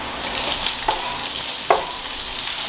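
Onion for corned beef hash fries in a pan with a loud, continuous sizzle, broken by a couple of sharp stirring scrapes.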